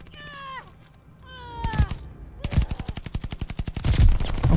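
Assault rifle firing in Call of Duty: Vanguard on the Fortress map, long rapid bursts of automatic gunfire in even, fast rhythm growing louder, with brief whiny chirping sounds near the start.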